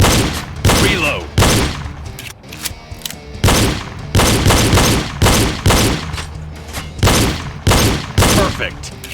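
Pistol fire during a reload drill, a long string of loud close gunshots at a steady, rapid cadence, about a dozen reports, with some voice sounds between shots.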